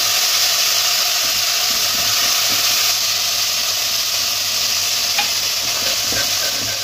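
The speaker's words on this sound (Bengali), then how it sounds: "এবার আমি প্রথমে তেলের ওপর দিয়ে দেব আদা বাটা, একটু ভালো করে ভেজে নেব।" Ginger paste frying in hot mustard oil while it is stirred, a loud, steady, close sizzle with a faint hiss of steam and occasional scraping, continuous with no talking.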